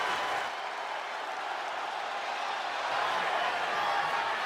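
A wrestling arena crowd in a WWE video game, a steady, dense roar of cheering and clapping that holds at even loudness throughout, with no break.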